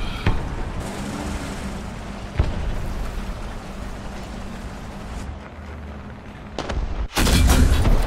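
Heavy 120mm cannon shots from a tank in the War Thunder video game, with a sharp blast near the start, another around the middle and a loud final boom, set over steady engine rumble.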